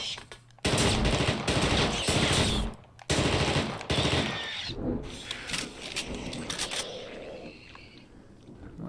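Dense, loud bursts of sustained automatic gunfire as enemies are shot down in The Thing: Remastered, two long volleys back to back followed by more scattered fire and impacts that trail off.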